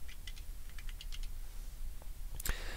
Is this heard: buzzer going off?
no